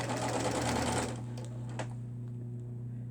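A sewing machine stitches fabric in a fast, loud mechanical whir for about a second, then stops, leaving a steady low hum and a few small clicks.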